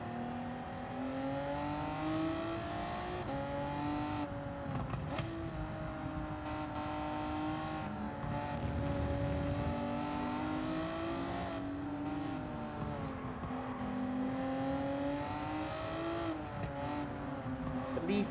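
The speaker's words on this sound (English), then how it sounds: "here we are at a slightly damp Suzuka for a 5-lap race in our turbo sports cars" Turbo sports cars race around a damp Suzuka circuit in Gran Turismo 7, a sustained engine drone rising and falling through gear shifts, with revving and passing cars, loud and continuous throughout.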